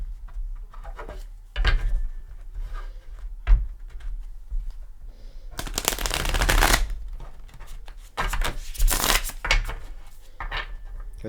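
Thick-cardstock Light Seers tarot cards being shuffled by hand, with bursts of riffling and rubbing in several bouts, close and fairly loud, separated by quieter handling noises and no talking.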